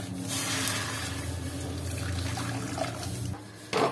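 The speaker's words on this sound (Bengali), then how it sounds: "এই যে গরম জল করলাম, এবার এটা এখানে দেবো।" Hot water pours steadily into a cooking pot holding marinated lamb and potatoes, a continuous splashing rush over a low kitchen hum, ending with a brief clatter.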